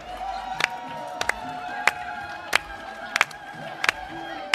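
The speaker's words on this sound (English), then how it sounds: "A big clap for our legends" Audience at a panel on African women in dialogue cheers and claps, a sustained crowd roar with whoops and scattered sharp claps standing out at intervals.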